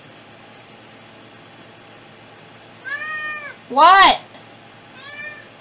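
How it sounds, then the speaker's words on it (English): A house cat meows near the microphone, one short call, then a louder drawn-out meow and a softer one, with a person speaking briefly over a faint steady fan-like hiss. "Why are you huffing at me, cat?"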